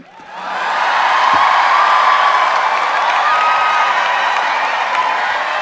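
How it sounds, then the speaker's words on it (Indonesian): Loud, sustained applause and cheering from a large congregation at a national Christmas celebration in a Toraja church, a dense wash of clapping and whoops that swells in and holds steady. "tepuk tangan buat Pak Rosan"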